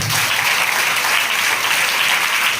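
Loud, dense applause from a church anniversary congregation, a continuous wash of clapping that stays steady from start to finish.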